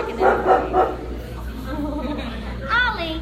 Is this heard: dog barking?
yes